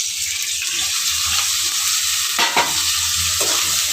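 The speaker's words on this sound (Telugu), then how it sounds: "ఈ మసాలా పేస్ట్ని పచ్చివాసన లేకుండా వేయించుకోవాలండి" A steady, close sizzle of blended masala paste frying in a pan for bagara rice, with occasional stirring scrapes breaking through the hiss.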